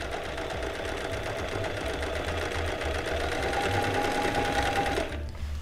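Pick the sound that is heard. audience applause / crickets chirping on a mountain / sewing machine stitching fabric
sewing machine stitching fabric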